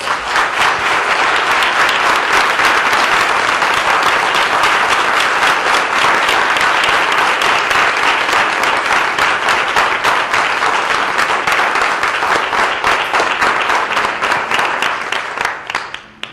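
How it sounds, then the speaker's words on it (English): Steady, loud applause from a conference audience for a teen panel, dense clapping that holds for about fifteen seconds before fading out. "if we could give them a round of applause"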